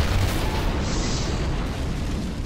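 A video game explosion in Metro Last Light Redux, a loud, sustained rumbling blast with heavy low boom that fills the whole moment before slowly easing off.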